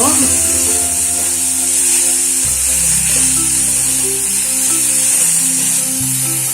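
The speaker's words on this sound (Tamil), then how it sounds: "வெங்காயத்துக்கு தேவையான அளவு உப்பு இதை நல்லா வதக்கிக்குவோம்" Onions with salt sautéing in a pan for kuzhi paniyaram batter, a loud steady sizzle heard under background music.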